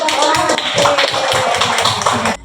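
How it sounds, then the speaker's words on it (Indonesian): A school audience claps hands together in a quick, dense round of applause, loud and close, stopping abruptly at the end. "Tepuk tangan Ibu."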